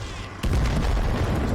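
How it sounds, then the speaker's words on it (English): A sudden booming blast erupts in a World War II strategy video game, Men of War: Assault Squad, followed by a dense, sustained roar of rumbling explosions and crackling debris. "Way too many explosions right now"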